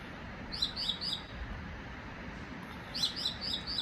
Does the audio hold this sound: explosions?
no